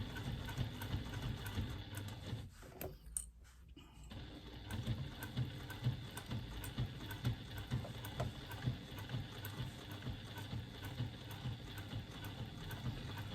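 Sewing machine fitted with an appropriately sized needle stitching across a thick seam on a bag exterior, a steady close mechanical whirr with a rhythmic low pulse, briefly pausing for about two seconds before resuming.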